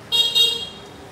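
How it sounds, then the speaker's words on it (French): Car horns toot in rainy street traffic in Vietnam, with two quick close honks in a row over a faint background hum. "Les klaxons toujours."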